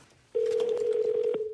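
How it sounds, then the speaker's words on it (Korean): A telephone handset in a Korean TV talk-show studio gives a short click, then a steady dial tone sounds clearly for about a second before cutting off, with a few faint clicks of dialing over it. "네, 일단 제가 전화를 해보죠."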